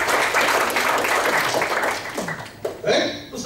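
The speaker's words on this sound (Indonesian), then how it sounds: "Tepuk tangan dong bagi kita." Participants at a public speaking practice session applaud together in a brief, lively round of clapping that trails off into speech.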